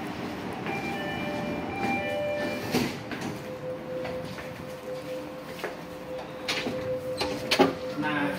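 A Jakarta MRT metro train starts moving late at night, giving a steady rumbling hum with rising electric motor whine tones and scattered clicks and clunks from the car.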